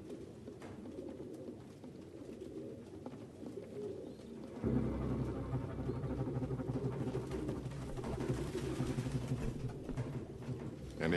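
Pigeons coo steadily at close range in a nest scene from the Detroit: Become Human video game, several birds layered into a dense, continuous murmur that grows louder partway through.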